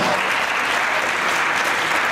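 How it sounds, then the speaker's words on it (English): Audience applause at a business leaders' forum, a dense, steady wash of many clapping hands that fills the whole stretch at a constant, fairly loud level. "Let's give her a round of applause."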